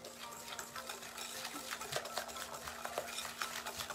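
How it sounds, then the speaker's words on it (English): A spoon stirs brownie batter with two eggs in a mixing bowl, a steady run of quick scraping, clinking strokes, close and continuous, with a constant low hum underneath. "I'm just gonna stir this up"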